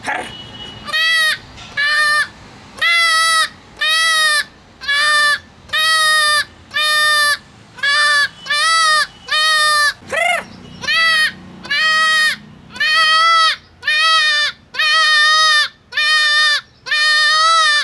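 A Marathi mimicry performer voices a goat's bleating, about sixteen loud, quavering bleats in a steady, evenly spaced series with short gaps between them.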